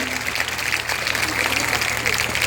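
Crowd applause at an ICS coaching centre gathering, cheering a man who has just landed a government job: a dense, steady patter of many hands mixed with murmuring voices throughout.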